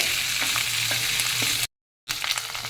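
Dried red chillies and a Kashmiri chilli sauté in hot oil for chutney, sizzling steadily and close with light stirring scrapes, broken by a brief silent gap.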